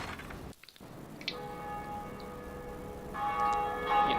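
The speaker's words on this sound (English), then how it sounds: "First, we got to ring this bell." Large bell rung in the video game Dark Souls, two resonant strikes with long sustained metallic ringing that swells again on the second strike, heard over low ambient game sound.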